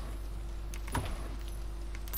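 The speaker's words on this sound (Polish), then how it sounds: "To jest kluczyk, weźmiemy go sobie." Picking up a key in the horror video game Doors gives one short, faint metallic jingle over a steady low background hum.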